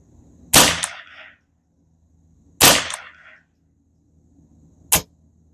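Custom Ruger 10/22 rifle firing .22 ammunition at targets outdoors, three sharp cracks spaced about two seconds apart, the first two trailing a short echo, the last shot quicker and quieter.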